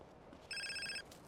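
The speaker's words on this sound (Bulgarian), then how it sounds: "Някой ме звъни." A short electronic phone ring in GTA San Andreas, a single bright warbling trill lasting about half a second, faint and alone.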